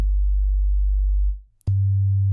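A basic drill bass synth built from Logic Pro X stock plugins, a deep sub-heavy sine tone holding one low note, then gliding down and briefly dropping out before a slightly higher note returns, loud and alone.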